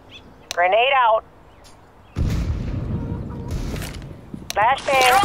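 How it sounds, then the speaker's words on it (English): A grenade detonates in Counter-Strike: Global Offensive on the Inferno map, a loud burst with a rumbling tail, with short electronic chirps and game effects before and after it. "Grenade out"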